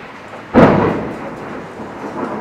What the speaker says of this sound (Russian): Да, град пошел.